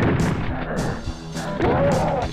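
Shotgun blasts in the SNES port of Doom, loud and close, with booming shots repeating about every half second over continuous game noise.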